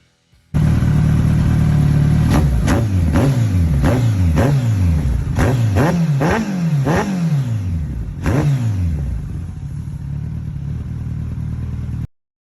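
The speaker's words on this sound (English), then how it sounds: "drop in to this video some sound footage of Jordan's new exhaust that he put on the ZZR in the last video" A Kawasaki ZZR motorcycle fitted with a new aftermarket exhaust idles loudly close by, then revs in a quick series of sharp blips that rise and fall. A final rev follows before a steady idle holds until it cuts off.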